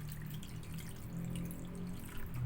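A little water is poured into a frying pan while cooking laing, giving a soft, close trickle and splash over low kitchen background noise.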